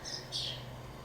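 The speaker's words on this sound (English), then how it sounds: "You can hear those birds chirping in the background." Starlings chirp inside a shed, two short high calls, faint and somewhat distant over a low steady hum.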